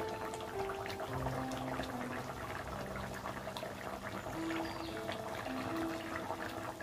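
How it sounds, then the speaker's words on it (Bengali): Katla fish curry simmering in a mustard and poppy seed sauce, a quiet bubbling and gentle popping from the pot that keeps going steadily, faint and close. "আর একটু ফুটতে দিচ্ছি"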